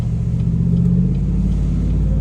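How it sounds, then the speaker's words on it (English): Engine rumble and a steady low buzz from a 1992 Ford Aerostar, with its loose exhaust heat shield rattling as the van revs, loud and continuous throughout. "What's this thing vibrating over here? It's like the exhaust heat shield."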